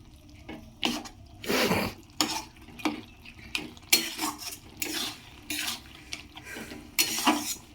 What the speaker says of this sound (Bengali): এরকমভাবে ভালো করে নাড়া দিয়ে দিতে হবে,